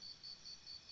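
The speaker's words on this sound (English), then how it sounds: "I heard the crickets chirp and closed my eyes" A cricket chirps in steady, evenly spaced high-pitched trills, faint against an otherwise quiet background.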